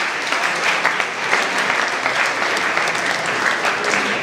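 A crowd applauds at a Hungarian village celebration, with dense, steady clapping that holds at an even level throughout, close and fairly loud.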